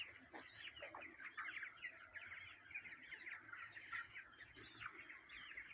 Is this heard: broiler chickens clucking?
yes